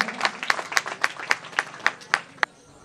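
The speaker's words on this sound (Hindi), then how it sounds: "जोरदार तालियों से उनका स्वागत करें।" A crowd at an award ceremony for a 2022 jasgeet devotional song competition claps in unison, about ten evenly spaced loud claps with softer scattered clapping between them.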